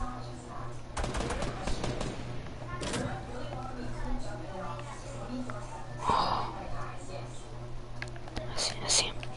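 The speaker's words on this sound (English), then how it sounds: "Damn, people shooting already." Fortnite gunfire: scattered sharp shots and short bursts at varying distances, some faint and some closer, with hushed talk and breathing underneath.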